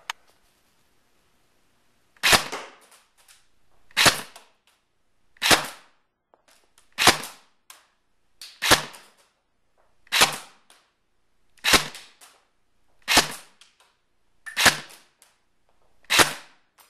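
An Echo 1 ASC airsoft carbine fires ten single shots being chronographed, each a sharp, close crack spaced about one and a half seconds apart, with silence between them and no talking.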